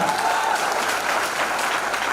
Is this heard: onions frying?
no